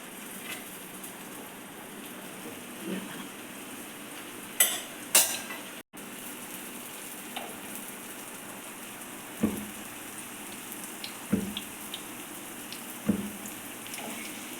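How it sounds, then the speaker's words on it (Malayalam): Shaped puris are slid into hot oil for deep-frying, giving a steady crackling sizzle throughout with a few sharper pops and bursts as the dough hits and bubbles, heard alone without talk. "നമുക്കിതിനകത്തേക്ക് പരത്തി വെച്ചിരിക്കുന്ന നമ്മൾ ഷേപ്പിലാക്കി വെച്ചിരിക്കുന്ന പൂരികൾ അതിനകത്തേക്ക് ഇട്ട് കൊടുക്കാം"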